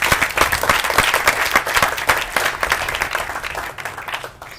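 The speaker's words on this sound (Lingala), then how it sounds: "je vous demande d'applaudir très très fort" Loud, dense applause from a crowd at a UDPS party gathering in Matadi, many hands clapping fast and close, easing off slightly toward the end.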